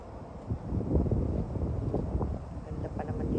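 Wind gusts across a sweet corn field outdoors, a low rumbling rush buffeting the microphone with faint rustling, steady and fairly loud throughout with no clear talk.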